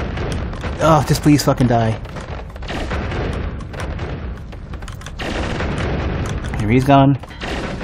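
Explosive wands in the game Noita set off heavy booming blasts that rumble almost without pause, while a player talks excitedly over the noise.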